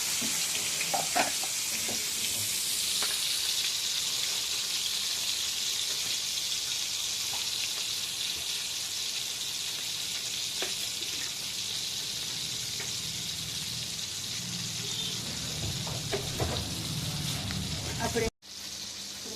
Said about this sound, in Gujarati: તેલ અને પાણી એકદમ ગરમ થઈ ગયું છે હવે એમાં ગોળ નાખી દેવાનું છે